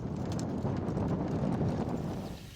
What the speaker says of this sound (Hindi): यह रहा एक और जुलूस आ रहा है, जंगली भैंसों का जुलूस।